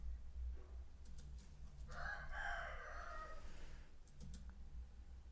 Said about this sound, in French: vous entendez toujours de chants de coq